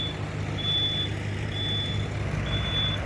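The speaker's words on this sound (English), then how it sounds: "that's a big old truck right there" A big truck reverses with regular high-pitched backup beeps, three long evenly spaced tones over a steady low engine rumble, fairly close and clear with no talking.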